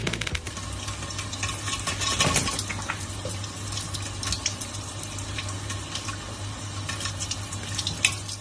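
Running water pours steadily from a tap over a parrot bathing beneath it, a continuous splashing stream with small irregular spatters and a faint hum underneath.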